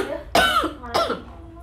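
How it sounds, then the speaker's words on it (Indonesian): Two sharp coughs come in quick succession, close and fairly loud, from someone eating sweet martabak, with faint background between them. "maaf ya guys, batuk."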